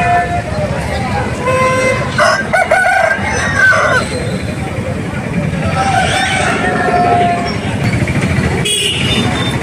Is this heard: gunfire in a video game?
no